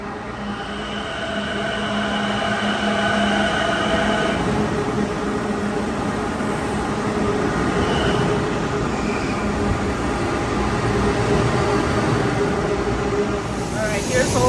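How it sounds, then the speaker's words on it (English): A train pulls into Grand Central Terminal in New York, a steady loud rumble and hum of the arriving cars filling the station hall, with faint voices nearby. "Here's the train."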